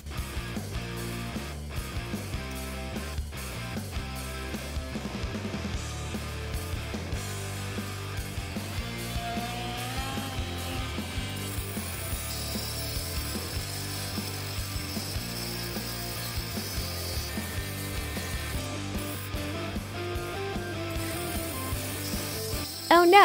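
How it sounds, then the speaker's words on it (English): Oscillating multi-tool blades grinding against concrete screws, a continuous buzzing, rattling cut that persists for the whole stretch with intermittent scraping and no speech. "Do you think these blades will cut through all these concrete screws?"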